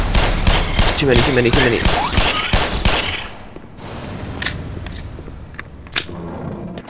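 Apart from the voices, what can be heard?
gunfire from shooting enemies in the video game Black Mesa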